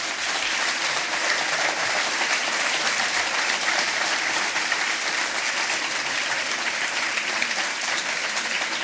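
An audience applauds at the close of a talk and book presentation, producing sustained, dense clapping that holds steady at an even level for nearly nine seconds, with no voices standing out.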